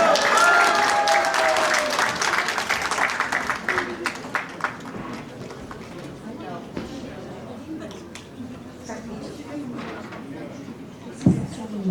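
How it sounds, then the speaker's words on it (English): Loud audience applause at a Losar Tibetan New Year celebration in Paris, a dense burst of clapping that gradually thins out over several seconds, with crowd chatter and talk underneath. "let's give her a round of applause all the way from New York"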